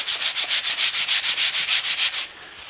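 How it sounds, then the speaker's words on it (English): Sandpaper rubs back and forth over the fretboard of an 81 Les Paul Heritage guitar in quick, even strokes, about fourteen rhythmic scratchy passes, close and clear with no talking. "I'm just going to use some basic sandpaper."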